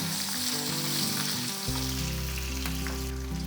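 Garlic cloves and curry leaves crackle and sizzle loudly in hot oil for a tomato chutney, a dense continuous frying hiss close up with a few stirring scrapes and no talking.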